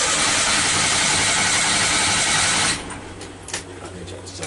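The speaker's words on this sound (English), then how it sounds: "Yay, the engine started." A sailboat diesel engine after air bleeding: a loud, dense mechanical clatter that cuts out abruptly partway, leaving quieter knocks and low hum.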